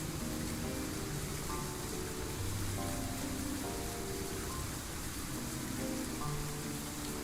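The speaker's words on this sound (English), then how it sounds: "The rain sounds are not controlled by anything" Steady rain hiss in the Limbus Company video game, continuous and fairly faint, with soft musical tones drifting underneath and no speech.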